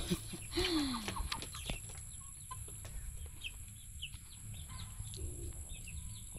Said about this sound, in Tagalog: Ito yung mga manok namin